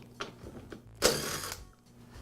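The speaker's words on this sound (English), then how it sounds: "Remove the nut so I can take off the wheel." A nut being loosened from the wheel of a Husqvarna riding lawn mower during transmission repair, heard as quiet ratcheting clicks that swell into a brief, louder burst of metallic ratchet whirring and then fade.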